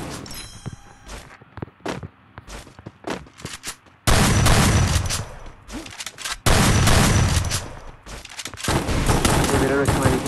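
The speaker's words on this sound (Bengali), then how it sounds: "বেরোনোর সময় দেখি আমি ফায়ার দিচ্ছি" Gunfire from the Free Fire video game comes first as scattered single shots, then as loud, dense bursts of rapid fire, with speech mixed in among the shooting.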